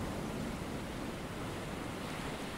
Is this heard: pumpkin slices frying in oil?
no